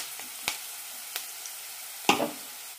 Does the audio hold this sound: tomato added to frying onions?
yes